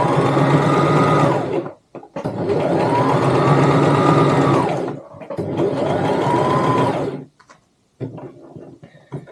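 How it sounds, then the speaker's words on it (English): A sewing machine stitches the lining of a tote bag pocket in two long steady runs of motor whirr with short pauses between, then a shorter burst, close and loud with no talking. "You're only sewing the pocket lining."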